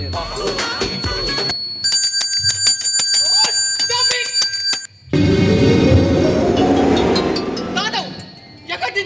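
A bell rings during a Tulu stage play, a bright metallic ringing that sounds in bursts through the middle of the scene, mixed with loud voices and stage noise throughout.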